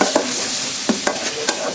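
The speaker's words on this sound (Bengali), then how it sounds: "এখানে মশলা কষানো হচ্ছে।" Spice masala sizzles in a hot pan while a spatula scrapes and stirs it, giving a handful of sharp, close clacks over a constant frying hiss, with no talking.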